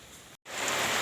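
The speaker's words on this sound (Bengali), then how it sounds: "তো বৃষ্টিটা কিন্তু ভালোই জোরে পড়ছে" Heavy rain pours down in a Bengal village during a storm, a dense, steady hiss of drops on surfaces, close and loud, broken by one abrupt split-second dropout.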